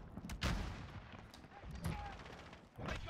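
Bursts of automatic gunfire in a Call of Duty match, with a few sharp loud volleys spread across a noisy battlefield soundscape.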